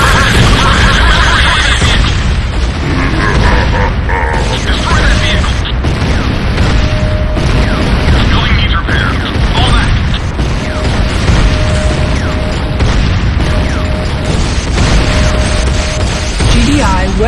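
Repeated booms and bursts of structures being destroyed in the video game Command & Conquer Renegade, loud and dense over constant battle noise, with intermittent announcer voice lines.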